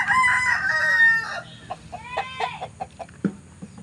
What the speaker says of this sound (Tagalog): Ayan yung mga pandigmang manok yan.